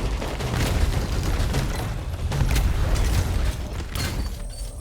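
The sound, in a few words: gunfire from the video game Bounty Star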